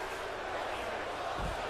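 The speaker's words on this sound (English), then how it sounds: "Do you hear the crowd chant?" A WWE 2K19 wrestling video game crowd roars in a dense, continuous wash of massed voices, with a brief low thump near the end.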